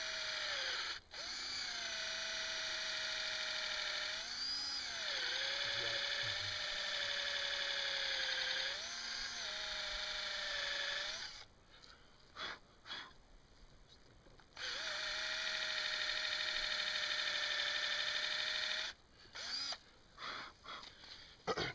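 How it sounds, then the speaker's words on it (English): A battery drill bores into a wood log for mushroom plugs, whining loudly in two long sustained runs with brief pitch dips and short stop-start bursts between them, close and without talk. "Drill right into the wood."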